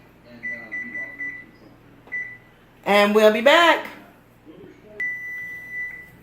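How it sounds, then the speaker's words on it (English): A kitchen oven timer beeps in short steady tones as it is set, with a brief burst of speech between the beeps and a final sustained beep. "And I'm going to set my timer for 5 minutes."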